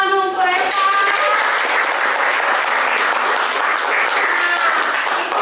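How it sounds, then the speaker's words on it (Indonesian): Classroom applause for a student, with a dense burst of children clapping together that starts abruptly just after a brief voice and holds steady and loud for several seconds. "tepuk dulu untuk Reva"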